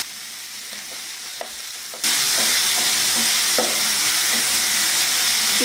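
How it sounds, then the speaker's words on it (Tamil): Chicken sautéed and stirred in a hot pan for samosa filling: a quiet lead-in gives way to a sudden loud, steady sizzle with scraping stirs and soft clinks, close up and without speech. "சிக்கனை இது போல நல்லா வதக்கி விட்டுட்டு"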